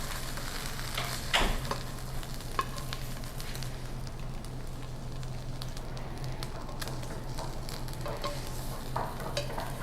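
Eggs fry in a pan with a quiet, steady sizzle and sparse light crackles and pops, heard close by throughout without talk.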